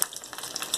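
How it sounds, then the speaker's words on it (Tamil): Curry leaves dropped into hot oil give a faint, steady sizzle with light crackles throughout, close by and with no voices, while spiced sundal is cooked for Navratri. "எண்ணெய் காஞ்ச உடனே கருவேப்பிலை கொஞ்சமாக போட்டுக்கலாம்."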